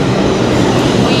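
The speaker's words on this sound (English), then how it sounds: "This might be our train." A New York subway train arrives at a station, a loud, continuous rumble and roar of rail noise filling the whole moment without pause.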